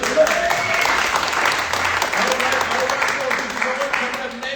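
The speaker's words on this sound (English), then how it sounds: "Clap for Jeff, everybody." Audience applause fills a poetry slam venue at Leimert, steady and dense for the full stretch, with an announcer's voice speaking over the clapping crowd.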